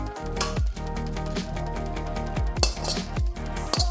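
Bangkok street-style Phad Thai being dished up onto plates, with utensils clinking and scraping against crockery in a busy run of close clatters over a steady background hum.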